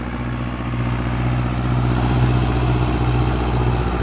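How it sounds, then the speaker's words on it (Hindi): Tractor running an 8-foot Maschio rotavator under full load while puddling a wet field, giving a steady, loud, close engine drone with a low rumble and no talking. "मास्कियो का रोटावेटर है"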